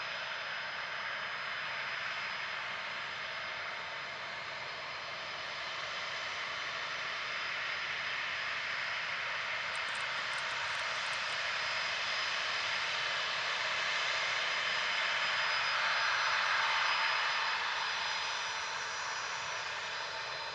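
CRJ-200LR regional jet at Bern-Belp airport spooling up for takeoff nearby, a loud, steady roar of jet engines with a sustained high whine that swells gradually over twenty seconds.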